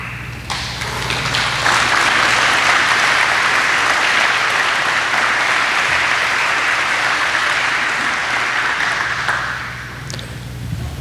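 An audience at a Veterans Day program gives a loud, sustained round of applause for standing veterans, building quickly and holding steady for about nine seconds before tapering off.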